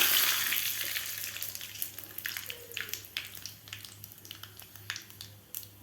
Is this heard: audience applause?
no